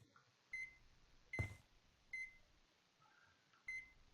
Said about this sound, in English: I can poke the microwave, which sounds weird.